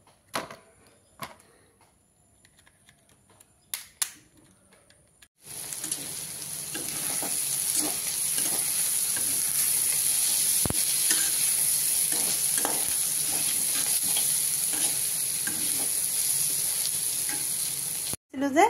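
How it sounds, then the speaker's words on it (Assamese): Fish fries in a pan with a loud, steady crackling sizzle that starts abruptly after some quiet handling clatter and continues evenly, then stops near the end. "এয়া মাছ ভাজি লৈছোঁ"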